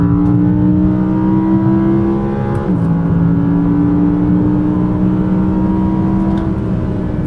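An Audi R8 V10 engine drones loud and steady during a test drive, holding a sustained pitch that dips briefly mid-way before settling into the same constant roar, with no talking.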